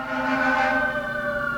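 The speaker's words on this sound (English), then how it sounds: "These sirens have been going all day." A siren wails steadily outdoors, a sustained rising and falling civil-defense style tone that holds loud and continuous throughout with no voices.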